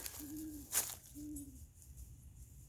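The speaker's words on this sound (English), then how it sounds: "It's an owl." An owl gives two soft, low hoots about a second apart, faint and somewhat distant, with a brief sharp noise between them.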